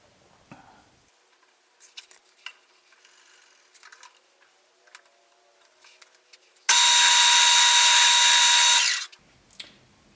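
A milling machine cuts 1966 Morris Minor hood hinges with a 10 mm 45-degree dovetail bit, heard as a loud, steady, bright cutting whine for about two and a half seconds after quiet shop clicks and taps.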